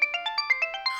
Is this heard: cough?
no